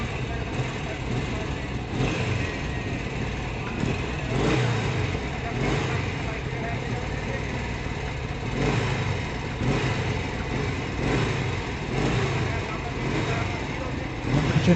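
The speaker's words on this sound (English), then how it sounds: "That's Tamido Fernando in the Norton Dominator" A Norton Dominator 660cc motorcycle engine roars steadily during a hill climb competition, a loud, continuous, rough engine drone with slight swells and no breaks.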